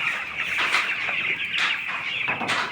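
A flock of young broiler chickens, about thirteen days old, on a farm clucks and cheeps in a constant, busy chatter with short louder bursts, close and fairly loud.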